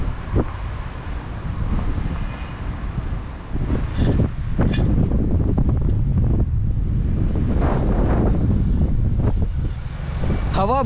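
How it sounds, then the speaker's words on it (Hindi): Strong gusting wind buffets the microphone during a scooter road trip at sunrise between Lonavala and Mahabaleshwar, loud rumbling blasts rising and falling continuously, with brief spoken bits mixed in. "हवा बहुत तेज़ चल रही है।"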